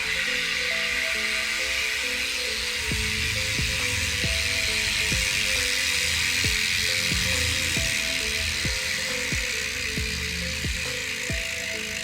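A spinning mountain bike rear hub freewheels on a bike converted for road use, giving a steady buzzing ratchet whir with faint periodic ticks, heard close and continuous without talk.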